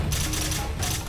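Gunfire in the VR shooter game Bulletstorm VR on Quest 3 sounds as a couple of loud, dense blasts in quick succession, with a brief dip in between.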